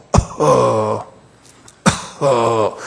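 Two gruff, voiced throat clearings, each opening with a sharp burst and followed by a rough, drawn-out rumble, separated by a short pause.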